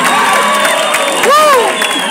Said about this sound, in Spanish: regálenme un aplauso